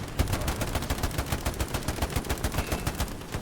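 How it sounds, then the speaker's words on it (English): Rapid automatic gunfire in the Hell Let Loose video game hammers out in a fast, regular rhythm of sharp, loud shots with no speech. "Watch out, they're shooting."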